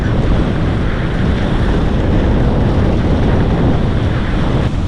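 On an open-ocean sailboat in the Gulf Stream, loud steady wind and rushing waves fill the air, with heavy wind buffeting on the microphone and no voices.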